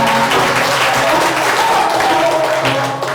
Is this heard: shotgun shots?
no